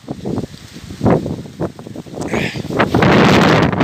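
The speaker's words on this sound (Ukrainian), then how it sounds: "Не знаю, коли по відео чуть вітер сьогодні страшний" Strong wind buffets the microphone in loud, uneven gusts outdoors in a garden during garlic planting, building to a sustained roar near the end.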